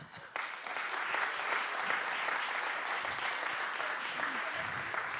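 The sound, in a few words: audience applause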